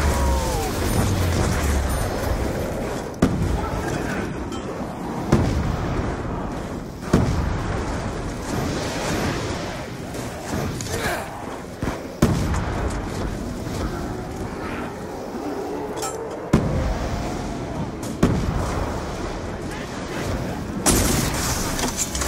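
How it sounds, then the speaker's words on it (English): Ray gun fire in Black Ops 2 Zombies, Mob of the Dead, rings out as repeated loud blasts within a dense, noisy game soundscape. Shots come in irregular bursts, and players talk over them. "There's like a perfect little spot, like in the bottom bar of my window where I can shoot my ray gun perfectly."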